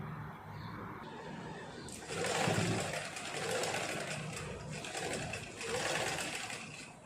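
A sewing machine stitches pleats into a petticoat, running steadily with slight surges in speed, close and fairly loud with no voices over it.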